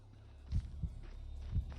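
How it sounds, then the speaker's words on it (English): A player character's heartbeat after sprinting in the VR zombie survival game SURV1V3, deep low thumps in a steady rhythm of about three beats over a humming background, close and muffled. "If you hear that, that's our heartbeat"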